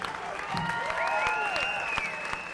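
A crowd at a 1993 live rock concert at First Avenue, Minneapolis applauds with steady clapping and some scattered whistles, moderately loud and filling the whole span.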